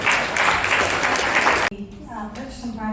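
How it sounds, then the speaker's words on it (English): Brief clapping from people at a community redevelopment meeting breaks off abruptly after a second and a half, and talk follows. "Give a round of applause for Table A."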